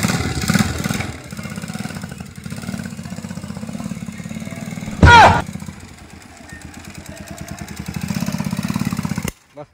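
A motorcycle engine idles close by with a steady, rapid putter, briefly revving loudly midway, then cutting off abruptly near the end.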